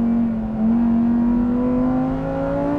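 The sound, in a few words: Lamborghini Huracán STO naturally aspirated V10 engine revving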